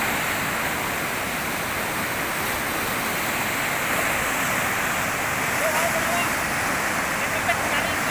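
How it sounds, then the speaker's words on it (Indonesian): Big, fast rapids on a river in Papua make a loud, close, unbroken roar of rushing water that stays steady throughout. "Gelombang yang besar ini akan kami lewati. Airnya sangat kencang."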